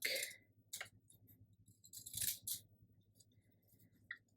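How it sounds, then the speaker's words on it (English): Deckle edge craft scissors cut through a paper cafe guest check, giving a handful of crisp, close snips separated by quiet pauses. "I'm going to use my scissors, deckled edge scissors"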